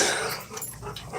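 A dog pants and growls up close, a breathy, raspy burst that fades briefly and then returns, loud and alone without speech.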